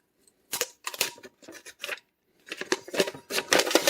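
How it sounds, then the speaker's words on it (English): A knife blade slicing through packing tape: short, crisp scraping strokes in quick bursts, a few in a row, then a pause and another faster run, close up with no talk. "Or I just take my knife and I just, you know, slice it down a little bit. Just to get this tape off of there."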